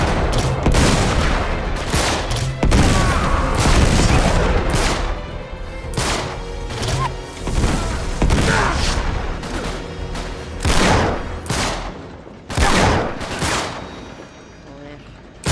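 Heavy video-game gunfire from Uncharted 3, a dense run of rifle bursts and single shots with loud impacts, spread across the whole stretch with brief gaps.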